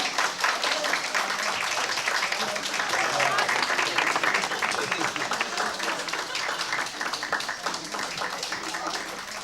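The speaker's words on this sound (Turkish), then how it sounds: "Alkışlıyoruz Hakan kardeşimizi." An audience claps at a circumcision celebration, producing a sustained, dense round of applause with voices mixed in throughout.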